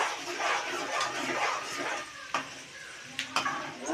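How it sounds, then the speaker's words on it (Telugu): Ginger fries in hot oil for a boti pachadi, giving a dense close sizzle that eases off, with a couple of sharp ladle clinks against the pot toward the end. "స్టవ్ ఆఫ్ చేస్తే వేడి వేడి నూనెలనే అల్లం వేయించుకోవాలి"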